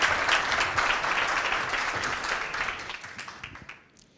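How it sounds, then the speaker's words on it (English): Conference audience giving a warm round of applause for a speaker after a web3 gaming talk, steady clapping that gradually thins and fades out over a few seconds. "Nice warm round of applause for Alexander"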